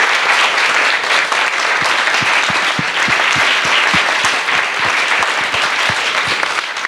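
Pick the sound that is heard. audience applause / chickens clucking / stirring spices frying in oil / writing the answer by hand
audience applause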